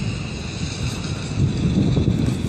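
Strong gusting wind buffets the microphone outdoors on a disc golf course at a riverfront park, a loud continuous low rumble that swells louder toward the end.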